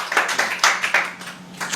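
An audience in a coaching class clapping in scattered, uneven bursts, a few sharp claps at a time rather than full applause, fairly close.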